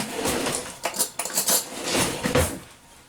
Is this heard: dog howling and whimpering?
no